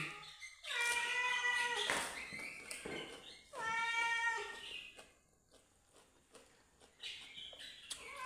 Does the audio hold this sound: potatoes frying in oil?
no